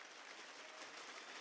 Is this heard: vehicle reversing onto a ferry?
no